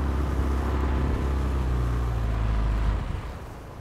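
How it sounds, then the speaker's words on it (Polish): A small boat's engine runs steadily with a deep, continuous drone on open water near nesting birds, then eases off toward the end. "Wyłączę silnik, żebyśmy jak najwięcej słyszeli"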